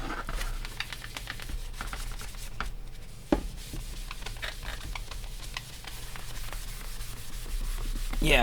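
Steady cloth rubbing and wiping over an air rifle, a continuous close scrubbing texture with scattered small knocks and taps throughout.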